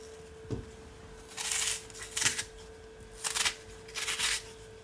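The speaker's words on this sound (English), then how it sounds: "So I'm just gonna cut up my herbs. Start with my onion first." A knife works through onion and herbs for Jamaican curry goat, making several rasping, scraping strokes in short bursts on a cutting board, close and fairly clear.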